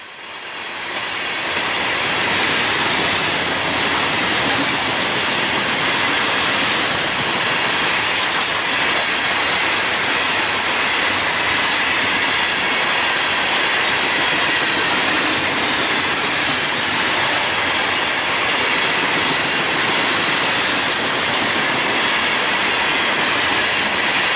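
A Florida East Coast freight train with rough-riding rock hopper cars rolls steadily past close by, a loud unbroken roar of wheels and rattling cars with clickety-clack and some wheel squeal for the whole stretch.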